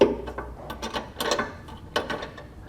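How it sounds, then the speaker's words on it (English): A hand wrench tightens a fitting on Firestone Ride-Rite Red Label Extreme Duty air helper springs on a 2020 vehicle, giving close, loud bursts of rapid ratcheting clicks over a few turns. "I'll switch over to my wrench here, and I'll give her a few turns or so"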